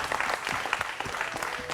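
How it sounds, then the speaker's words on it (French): Audience applause for Espérance, a lively burst of many hands clapping close and fairly loud with some distinct individual claps, lasting under two seconds and free of speech. "Applaudissez pour Espérance, s'il vous plaît."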